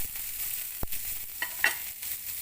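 Ginger, green chili and coriander being stirred in a hot pan, a soft sizzle with a few scraping clicks from the spoon over a short stretch, no voices.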